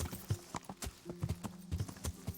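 Horse hooves clip-clopping steadily in the medieval village setting of Kingdom Come: Deliverance, a brisk, even rhythm of close, hollow knocks over a noisy outdoor background.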